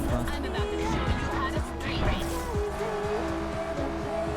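In the Need for Speed Unbound racing game, a car drifts with a loud engine roar and repeated tire squeals, while a person talks over the game audio.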